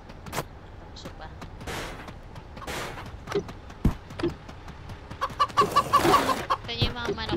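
Chickens in a video game about moving house cluck in scattered bursts, with clucks growing busier and louder near the end, over a low ambient background.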